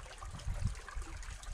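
Orange River floodwater flowing past at low rate during the March 2021 flood, a steady low rushing wash with faint trickling texture, continuous and fairly quiet throughout.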